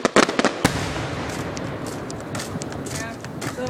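Fireworks bang in a quick burst of sharp cracks at the start, then a dense crackling hiss continues, with a person talking and exclaiming over the noise.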